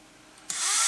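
A power drill with a 1.12mm bit bores into plywood, starting abruptly halfway through and whining steadily and loudly to the end, close by with no talking.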